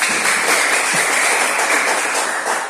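Classroom of students applauding, a steady, even patter of many hands clapping together at close range for several seconds with no voices.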